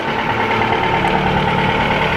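A sailboat's engine idles with a steady, loud low rumble, close by and unbroken, with no talk.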